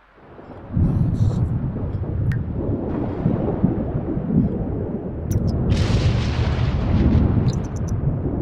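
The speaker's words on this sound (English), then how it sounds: "Wow, this thunderstorm." Thunder from a storm in The Sims 4 rolls in loud and close, a long sustained rumble with a sharp crack midway and continued booming to the end.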